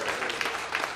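A short burst of steady audience applause at a summer reading magic show, a dense, even patter of many hands clapping at moderate loudness.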